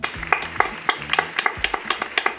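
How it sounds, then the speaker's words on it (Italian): Steady, evenly spaced hand clapping, close and fairly loud, with a quick regular rhythm and light background hiss, as a host on an Italian channel's end-of-season episode calls for applause. "Fatelo anche voi da casa l'applauso"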